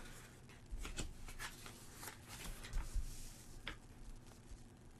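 Playing cards from the Button Shy solo game The Royal Limited are drawn and handled on a table, giving soft, close papery slides and flicks that come in a few short bursts over a quiet background.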